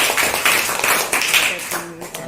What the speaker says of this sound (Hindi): सर के लिए भी तालियां बजाइए।